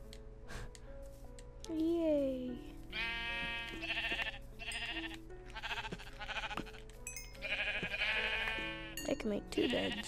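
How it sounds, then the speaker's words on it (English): Sheep bleating in the Minecraft video game, several short harmonic calls spread across the stretch, mixed with game sounds and a person talking over them. "Sheep, yes."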